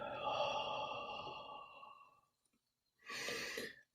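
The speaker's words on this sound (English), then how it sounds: "Another deep breath." A slow, deep breath drawn in and released softly over two seconds, then a second airy exhale after a brief pause, quiet and close with no voice.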